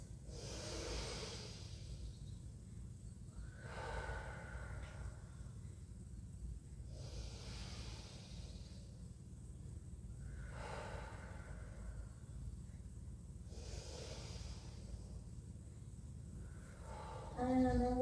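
Slow, deep breaths during a pilates exercise, each long inhale and exhale drawn out over several seconds in a steady repeating cycle, close and soft against a quiet background hum.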